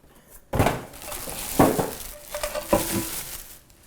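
A deep pot from a BSTY multifunction electric cooker knocks and clinks as it is handled, with several sharp metallic contacts spread over a few seconds of close, moderately loud clatter.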